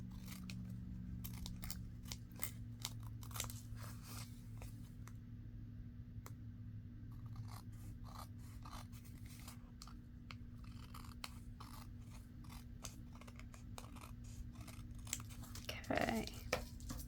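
Small scissors snip paper in a quick series of crisp cuts, close by, over a steady low hum, with a brief rustle near the end.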